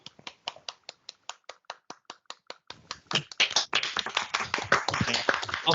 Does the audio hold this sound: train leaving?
no